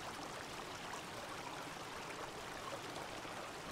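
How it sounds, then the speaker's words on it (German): A waterfall in the video game Obduction gives a steady, faint rushing wash of water that holds even and unbroken throughout, with no voices. "Wasserfall läuft."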